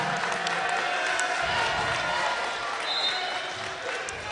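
A home crowd at a varsity boys high school basketball game roars and cheers as a seldom-used player checks in for the Mustangs, a broad sustained burst of cheering under a commentator's voice.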